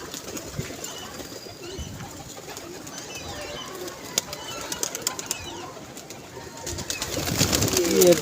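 Pigeons, a female among them, coo repeatedly while being fed grain. The coos sit amid steady outdoor background noise, and a louder rustling, flapping burst comes near the end.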